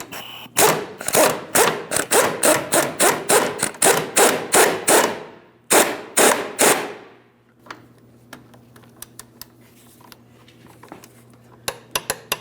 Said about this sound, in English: go ahead and snug it and torque it to 30 foot-pounds.